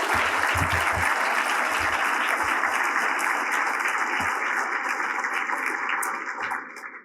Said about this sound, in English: So here's the moment where you can give some thunderous applause.